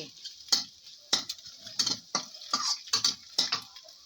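Fermented pork (naem) stir-fried in a pan for fried rice: a spatula scraping and clacking in irregular strokes, about ten sharp hits over a soft sizzle, close and clear with no talk.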